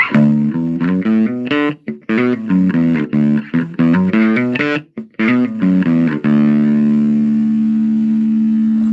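Electric guitar played through a small Laney Mini-Lion practice amp with its overdrive engaged, giving a distorted, gritty tone; a run of quick picked notes and chords is followed by a long sustained chord ringing out, close and loud with no talking.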